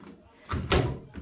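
The front-loading door of an automatic washing machine opens after a spin cycle with a brief click and a muffled thud of the latch releasing, close by and short.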